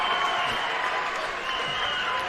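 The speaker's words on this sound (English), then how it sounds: "Kid Schneider with the fans cheering her on" Steady, dense crowd cheer and applause from fans at a girls' high school state swimming and diving finals, a sustained roar with no distinct peaks and no talk over it.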